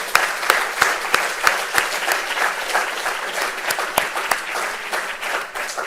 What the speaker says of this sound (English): give the applause to the Israeli and SAI for organizing this